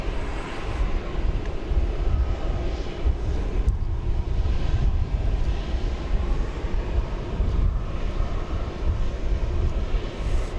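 Airplane at DFW Airport, a steady broad engine roar with wind noise holding loud for the whole stretch, with no clear rise or fall.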